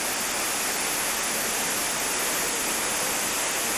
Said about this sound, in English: The waterfall itself tumbles down about 200 feet.